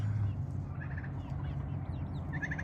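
Domestic turkeys sunning outdoors let out two short bursts of rapid gobbling over a low, steady background rumble.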